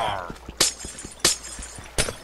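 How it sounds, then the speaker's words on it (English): Glass blocks breaking in Minecraft, three sharp shattering crashes spaced about two-thirds of a second apart, with soft tapping clicks of block hits in between. "You know, I should get rid of this glass."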